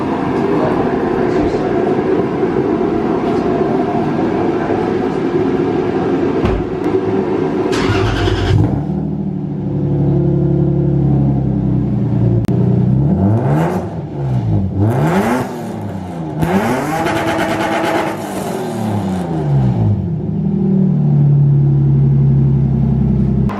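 A Mazda RX-8's rotary engine roars and revs repeatedly, pitch rising and falling through several hard accelerations, loud and close as if heard from inside the car.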